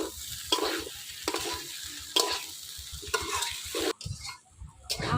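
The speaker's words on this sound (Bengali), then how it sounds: "এবার ভাজা পটলটা দিয়ে দেবো।" Fried pointed gourd is tipped into frying rice and stirred for a Bengali shrimp muri ghonto, with a steady close sizzle broken by several scraping stirs in a pan and a brief lull near the end.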